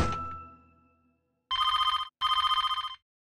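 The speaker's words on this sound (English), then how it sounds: "Phone call from a stranger." A cartoon telephone rings twice in loud electronic trilling bursts after a fading tone, each ring about half a second long and separated by a short gap.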